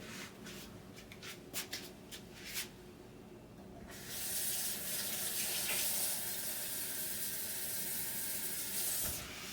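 Water runs steadily from a kitchen tap, a broad continuous hiss that starts abruptly after a few seconds of quieter clinking and continues close and moderately loud to the end.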